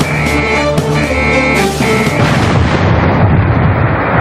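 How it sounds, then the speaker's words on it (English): Battleship Missouri's 16-inch guns firing in rotation, loud heavy booming blasts with a rolling roar and dense low rumble continuing throughout, no voices. "fired one 16-inch round every 15 seconds, 9 guns firing in rotation"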